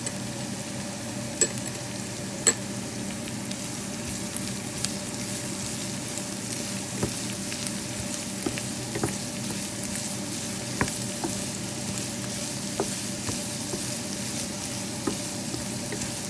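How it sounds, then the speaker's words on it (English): Garlic sizzles steadily in a pot for Brazilian black beans made in an Instant Pot. A constant close frying hiss carries occasional light pops and faint utensil ticks, with no talking. "So you're gonna fry this up."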